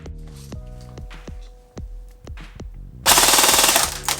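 Evolution Recon LA M4 airsoft rifle firing full auto: a burst of rapid, evenly spaced mechanical thumps close by, then a loud, dense, sustained rattle that ends the clip.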